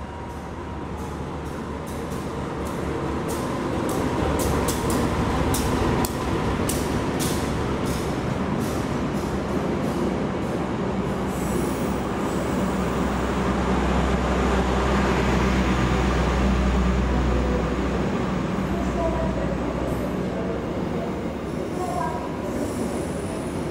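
A KA Joglosemarkerto economy-class train rolls along steadily, with a loud continuous rumble of wheels on rail, rattling carriage noise and intermittent high metallic squeals throughout.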